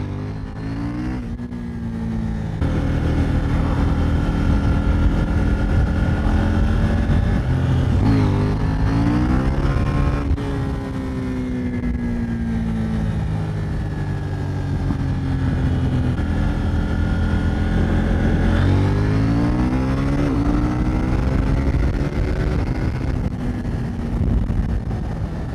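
A 2021 KTM 890 Duke R motorcycle rides and accelerates through the gears, its engine note climbing repeatedly with dips at the shifts, loud and close amid steady wind rush.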